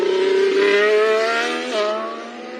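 Formula 1 car at Bahrain pre-season testing, a loud high-pitched engine wail under throttle that holds steady, dips briefly as it shifts, then fades slightly as the car moves away.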